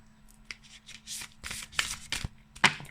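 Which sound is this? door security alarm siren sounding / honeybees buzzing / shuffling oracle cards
shuffling oracle cards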